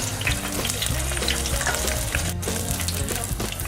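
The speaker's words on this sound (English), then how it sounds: "So we're frying, and when they're golden brown, I shall take them out and taste them." Vegan onion rings deep frying in a fryer, giving a steady, close bubbling sizzle with crackling oil that continues throughout without any talk.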